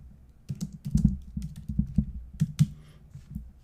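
Fingers type on a computer keyboard up close, a short uneven burst of soft key clicks and taps with no voices.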